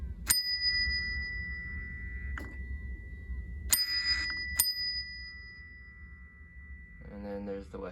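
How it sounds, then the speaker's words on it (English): A Westinghouse elevator bell from a collection of elevator parts rings in four sharp, bright dings spaced a second or more apart, each leaving a sustained ring. A brief voice-like sound follows near the end. "And then there's the Westy bell."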